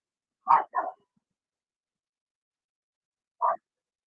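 A dog gives two quick barks in a row, then a single bark about three seconds later, each loud and close against otherwise silent surroundings.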